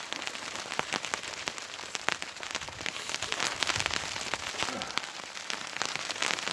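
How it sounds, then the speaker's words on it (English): Freezing rain and sleet falling in a back yard during a storm, a steady dense patter of tiny ice pellets ticking on surfaces, faint and continuous with scattered sharper clicks. "having a little bit of a freezing rain, sleet storm at the moment."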